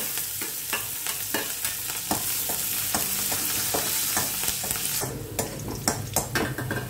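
Cumin, mustard seeds and chillies sizzle loudly in hot oil for tempering pulihora, with steady crackling and repeated stirring scrapes, and the sizzle brightens near the end.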